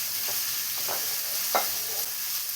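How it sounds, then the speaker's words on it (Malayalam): Four sliced onions sautéed in a pan for a Kerala-style squid roast, a steady hiss of frying with a few soft, scattered stirring scrapes, nearby and without talk. "കൂന്തൽ വേവുന്ന സമയം കൊണ്ട് നമുക്ക് ഇതിലേക്കുള്ള സവാള എല്ലാം ഒന്ന് വഴറ്റിയെടുക്കാം."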